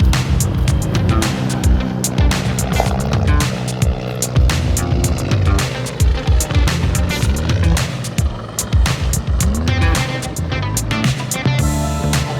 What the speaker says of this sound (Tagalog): Helicopter eh.